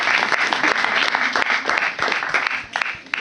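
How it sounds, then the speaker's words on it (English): An audience claps for Hadia, loud, continuous applause from many hands that fills the whole moment at an even, close level. "can you please clap for Hadia?"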